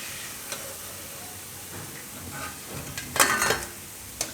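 Cabbage bhajiya fritters fry in hot oil with a soft, continuous hiss, broken by occasional stirring and a louder clatter of a utensil against the pan.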